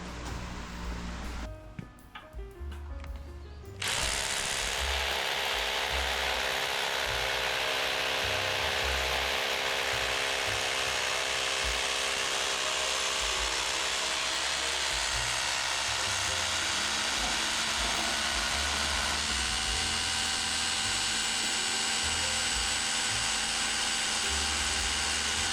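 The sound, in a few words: hammer drill drilling a hole in a sawmill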